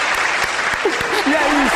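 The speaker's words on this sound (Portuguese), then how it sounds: "salve de palmas pra ela" A studio audience on a Brazilian TV variety program applauds steadily for a guest, a dense, continuous clapping wash that fills the whole moment, with a few brief voices rising faintly above it.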